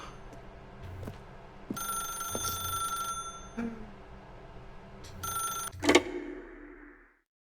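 Telephone ringing in The Stanley Parable video game: an old-style bell rings in two bursts of about a second and a half each, with clicks and soft game sounds between. A final sharp clatter follows before silence.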